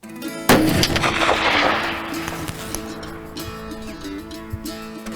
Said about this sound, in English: All your shots are in the kill zone, but we just want to do a bit more precise.